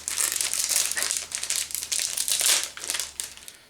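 A hockey card pack's foil wrapper is torn and crinkled open up close, a burst of rapid crackling rustles in quick waves with no talk.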